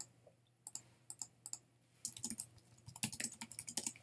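Keys clacking on a computer keyboard while typing a short phrase into a block-coding tool, sparse taps at first and then a faster run of close, crisp clicks, with no talking.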